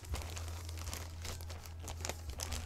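A package being cut open, with crisp crinkling and tearing of plastic wrap over a steady low hum, close and continuous for a few seconds.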